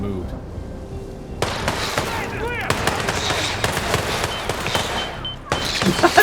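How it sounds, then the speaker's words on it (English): Repeated bomb explosions and gunfire-like bursts in the Hitman video game, dense and loud with sharp cracks starting after a quieter opening, mixed with game effects and people talking over the action. "They threw so many bombs!"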